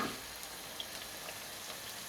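Onion frying gently in a pan for a Chinese chicken dish, a quiet continuous sizzle with scattered tiny pops, heard alone and fairly faint.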